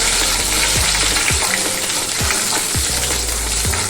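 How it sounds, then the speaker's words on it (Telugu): Mustard seeds, cumin, garlic and four dried red chillies fry in hot oil as a tempering for a carrot curry, giving a steady, dense sizzle with small crackles and pops all the way through. "ఆవాలు జీలకర్ర మంచిగా వేగాలి"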